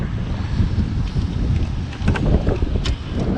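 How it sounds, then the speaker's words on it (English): Strong gusts buffet the microphone on an exposed fishing jetty, a continuous loud low rumble with surging bursts throughout and no voices. "it is incredibly windy outside, so audio is going to be completely shot the entire video"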